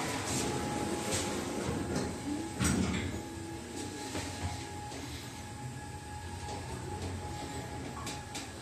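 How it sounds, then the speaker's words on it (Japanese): Elevator doors slide shut in the Komaki station-front Rapio building, a faint mechanical rumble and soft thud set against a constant low hum with no voices. "ドアが閉まります。"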